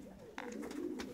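Tiger Horemans pigeons in a loft coo softly, a low throaty burbling call repeating over a second, faint and close with quiet rustling in the background.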